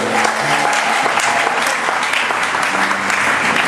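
Church congregation applauding to acclaim the Lord at a tenth-anniversary service, a dense, steady burst of clapping that fills the whole stretch without a break.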